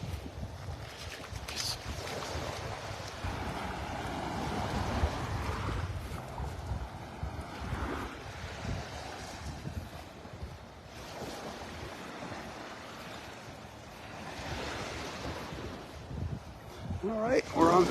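Steady wash of ocean surf at Vanderbilt Beach in North Naples, Florida, a continuous rolling roar with wind buffeting the microphone throughout.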